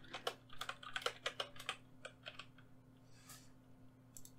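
Computer keyboard typing while coding: bursts of quick, close keystrokes in irregular runs, with gaps and a faint steady electrical hum underneath.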